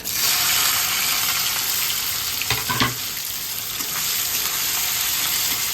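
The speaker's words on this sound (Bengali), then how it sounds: "এবার আমি পেঁয়াজটা একদম লাল লাল করে ভাজবো, একটু ব্রাউন কালার হবে।" Chopped onions for chole sizzle and crackle steadily in a hot pan, a dense continuous frying hiss with a brief clatter of stirring near the middle, close and unvoiced.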